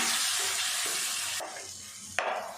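Vegetables sautéing with tomato paste and masala in a pan for a tamarind kuzhambu, a loud hiss that drops sharply as the paste goes in, then quieter frying with a fresh burst of sizzle near the end.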